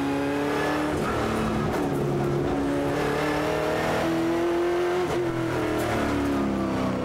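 Onboard a NZV8 V8 race car lapping the tight, twisty section of Ruapuna raceway on a foggy day, the engine loud and close, revving up and down through gear changes and corners, with no voices.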